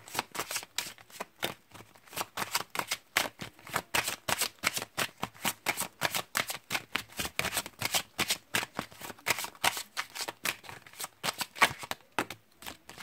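Oracle cards being shuffled by hand: a quick, even rhythm of papery riffles and slaps, close and continuous for about twelve seconds, then stopping near the end.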